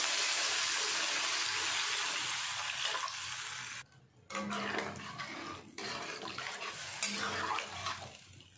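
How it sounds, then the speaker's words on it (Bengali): Water poured into a pot of fish curry with fried potatoes, a steady broad rushing splash filling most of the clip, pausing briefly and resuming with lighter bubbling and stirring noises close by. "এবার জল দিয়ে দিচ্ছি।"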